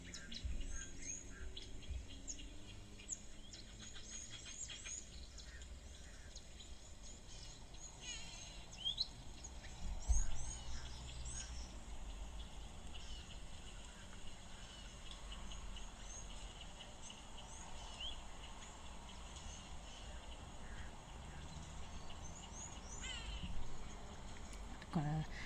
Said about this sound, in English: Got a grey go-away bird calling there.